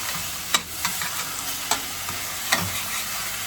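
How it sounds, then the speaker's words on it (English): Chicken searing in a pot with ginger and garlic, a steady low sizzle broken by a few sharp scraping stirs as the pieces are moved around, close and moderately loud with no talking. "manipulate your chicken in the pot like that"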